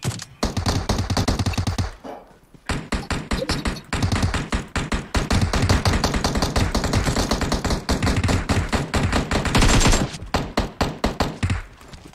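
Rapid sniper and rifle fire in PUBG Mobile gameplay, loud and dense bursts of shots crackling almost continuously with brief pauses, close and in the foreground.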